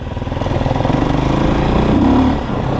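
A Forte Cross 250 motorcycle with a 166 pushrod engine idles and runs close by, a loud, pulsing low thrum with a brief rise in revs near the end.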